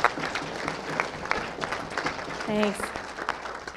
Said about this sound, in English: If everybody can applause right here,